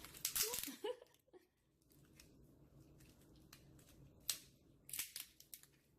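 Kitchen scissors snip and crunch through a lobster shell before baking, with a few sharp close cuts at the start, quieter crackling, and another burst of cutting near the end.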